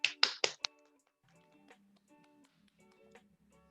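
A classroom gives a few quick hand claps for a student named Salwa: four sharp, close claps in under a second, followed by faint, quiet voices.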